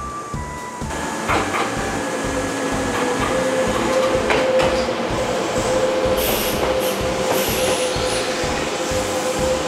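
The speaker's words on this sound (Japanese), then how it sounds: "この駅でまた後からやってくる特急列車に抜かれます" A Kintetsu limited express train to Ise and Toba races through a station at Nabari, a steady loud rumble of wheels on rails with rising whine and brief high squeals as the cars pass close by.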